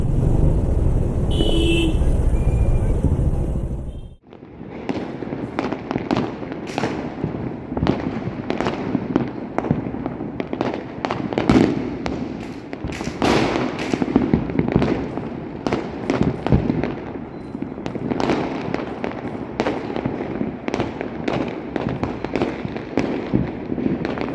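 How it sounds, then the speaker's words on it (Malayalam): Diwali firecrackers burst on a Chennai street in rapid, irregular succession, sharp loud cracks near and far, following a brief steady roar at the start. "എല്ലായിടത്തും പടക്കം പൊട്ടുകയാണ്"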